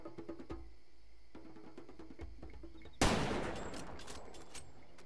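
A single loud gunshot rings out in the shooter game Far Cry 2 after a stretch of quiet clicks and ambience. It cracks sharply nearby and trails off in a long echoing decay.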